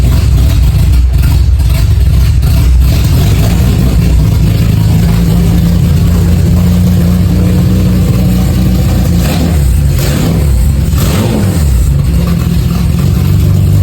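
A BMW E46 M3 engine running loud and steady close by, with low rumble throughout and a couple of revs rising near the end.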